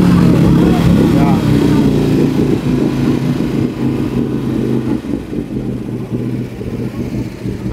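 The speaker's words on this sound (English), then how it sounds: "It's a brand new engine." A brand new engine revs loudly and close, a rough rumbling idle with clattering pulses that gradually eases and quiets toward the end, with people talking over it.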